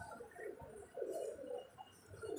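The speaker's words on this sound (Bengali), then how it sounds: "দেখো এখানে কত পায়রা।" Pigeons coo at a Shiva temple in Kashipur, with several soft, low, throaty calls overlapping in short bursts close by.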